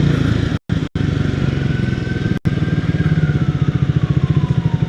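A motorcycle engine heard by its rider: a loud, steady, pulsing throb with a gritty mechanical rattle, broken by a few brief dropouts, and a faint siren tone slowly falling in the background.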